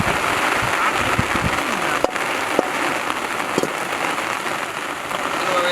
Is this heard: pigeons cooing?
no